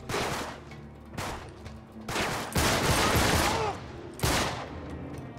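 Video game gunfire during an upward shooting scene in Uncharted 3: Drake's Deception, with repeated loud bursts of shots and brief quieter gaps, no talking.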